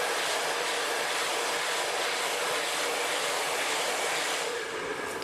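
A hair dryer blows steadily as it blow-dries curly hair, a continuous loud broadband rush that holds an even level throughout and dips slightly near the end, with no voices.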